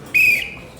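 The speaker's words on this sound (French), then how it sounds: "ce petit coup de sifflet" A short, sharp blast on a small whistle rings out once in a TV studio, loud and close, then cuts off quickly.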